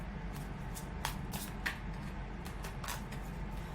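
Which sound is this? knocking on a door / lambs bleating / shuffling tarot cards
shuffling tarot cards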